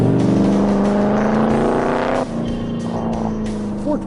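A 2011 Shelby Super Snake with 750 horsepower and a 427 Cobra run their V8 engines at a drag strip and road course, giving a loud, close, steady revving drone that drops in pitch midway like a gear change.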